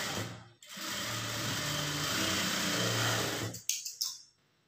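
A sewing machine top-stitching a plain blouse runs in one fast, continuous whirring burst of about three seconds, then stops with a few short clicks and knocks as the fabric is handled.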